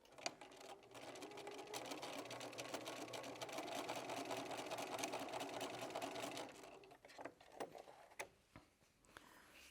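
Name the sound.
sewing machine stitching fabric ravioli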